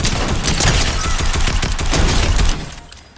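Tactical rifle gunfire in the video game Fortnite: a dense, rapid volley of loud, close shots rattling for about two and a half seconds before cutting off and fading.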